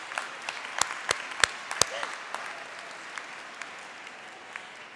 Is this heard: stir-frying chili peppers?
no